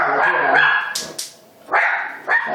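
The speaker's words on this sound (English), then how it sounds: "That's my little puppies protecting the house." Several small puppies bark nearby, loud sharp yips in quick succession with short pauses between, in a home kitchen.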